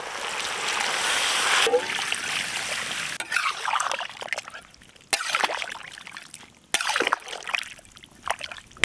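Water pours and splashes into a pot of pork gravy with spices for a couple of seconds, then sloshing and stirring knocks follow with brief clanks, close up.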